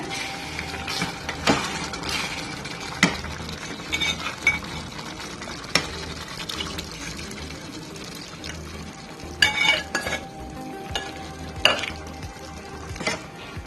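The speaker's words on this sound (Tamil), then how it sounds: "பருப்பு போட்டு நல்லா மிக்ஸ் பண்ணிடுங்க" Spoon stirring chickpeas into a thick masala gravy for Punjabi chole in a hot pan, steady scraping and sizzling with sharp metallic clinks against the pan at irregular intervals, close and fairly loud, no voices.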